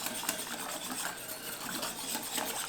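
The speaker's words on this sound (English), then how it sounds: "Then you just want to whisk it together." Water and apple cider vinegar are whisked together in a bowl for gluten-free vegan bagel dough, giving a continuous soft, scratchy swishing that stays faint and even throughout.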